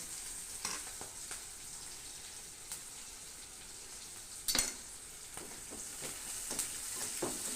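Food frying in hot oil for a Kerala Onam sadya, a steady close sizzle with scattered crackles and a few louder pops and stirring scrapes, no voices.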